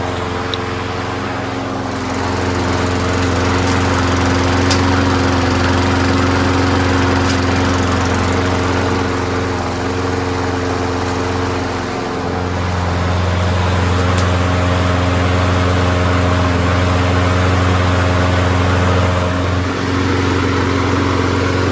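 A Craftsman or Troy-Bilt lawn mower engine runs steadily and loudly up close, burning off excess oil in the muffler, a constant droning hum with no talking.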